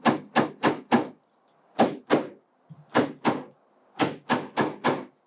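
Wooden dowel pieces are hammered into holes at the top of a wooden bug hotel, sharp hollow knocks in quick runs of three or four, loud and close, with short silent gaps between the runs.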